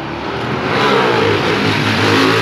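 A car engine revs loudly and steadily on a road as vehicles drive past, a close, continuous rumble with rising throttle and no talking.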